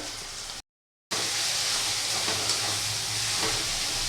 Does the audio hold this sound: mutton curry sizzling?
yes